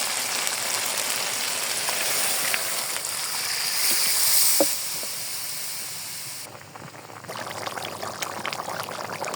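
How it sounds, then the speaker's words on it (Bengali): Water is poured into a pot of village-style duck curry, a steady close hiss and splash that fades midway before softer bubbling noise returns, with no voices. "এখন আমি জলে কম দিয়ে দেবো।"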